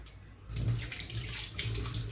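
Running tap water splashes over cooked greens being rinsed in a home kitchen, a steady close stream that starts abruptly and pulses with uneven spattering as the leaves are moved under it.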